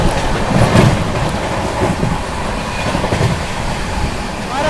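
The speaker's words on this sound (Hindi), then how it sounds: "बारह 12306 न्यू दिल्ली हावड़ा राजधानी आती है दोस्तों" The New Delhi Howrah Rajdhani Express runs past on the rails, a loud close roar of rolling wheels and rushing air with rumbling, clattering texture that continues throughout.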